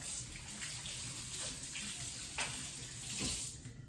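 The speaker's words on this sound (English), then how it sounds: "Do a quick wash of my hands." Tap water runs steadily into a sink as hands are quickly washed, a continuous close hiss with small splashy changes throughout.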